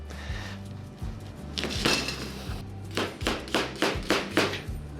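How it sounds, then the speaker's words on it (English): Knife chopping onion on a board while cooking a tikka masala, a burst of scraping cuts followed by a steady run of about six sharp, evenly spaced thuds, close and fairly loud over low kitchen hum. "I'm going to cut some onion."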